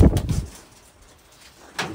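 A large pigeon coos close by, with a low throaty burst at the start and a brief call again near the end, separated by quiet.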